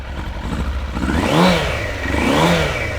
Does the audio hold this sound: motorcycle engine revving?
yes